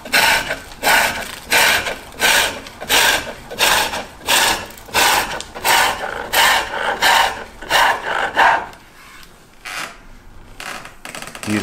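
A sharp flat chisel, bevel down at a slight angle, paring wood and lifting long streamers of shavings: steady rhythmic rasping strokes, close and loud, about a dozen in a row before trailing off into softer scrapes.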